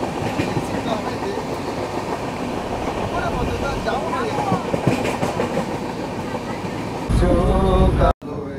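The Jammu Tawi Express pulls into Asansol station with a loud, continuous rumble and rhythmic clatter of wheels over rail joints, heard from inside the train, growing louder near the end before a brief cut.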